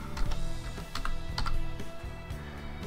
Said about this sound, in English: we'll simply type in WebCam Toy